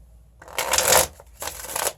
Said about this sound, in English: Get a few shuffles in here.